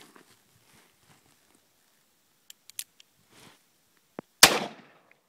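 A single sharp, loud blast from a magnum revolver cracks out after a few faint clicks and handling noises, followed by a brief decaying echo outdoors.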